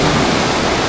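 A powerful waterfall gives a loud, steady, close rushing roar of water with no break or other sound over it.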